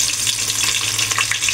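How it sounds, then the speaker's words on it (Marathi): Onion and mustard seeds sizzle in hot tempering oil for a Marathi amti, a steady, close, continuous frying crackle with small pops throughout and no talk. "आमटीला आता फोडणी टाकून घेऊया."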